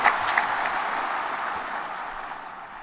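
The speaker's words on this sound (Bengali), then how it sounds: "আমরা সবাই মিলে আবার হাততালি দিয়ে জোরে হাততালি দিয়ে অভিনন্দন জানাচ্ছি" Audience clapping at an award ceremony during World Environment Day and environment fair events, a steady broad wash of applause that holds throughout and fades slightly toward the end, with no voices over it.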